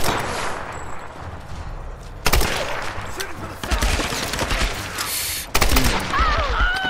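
Bursts of rapid gunfire from a Tomb Raider video game firefight, loud and close with sharp broadband cracks at intervals over constant battle noise, some shots echoing like a fusillade.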